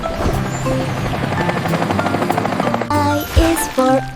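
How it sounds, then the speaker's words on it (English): A helicopter whirs with a steady rhythmic rotor chop, blended with bright cheerful music in a children's song. "Whir, whir, helicopter."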